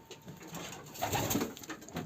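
Soft homing pigeon coos murmur close by at a loft's entry-exit tunnel, low rounded calls repeating irregularly over a faint background hum.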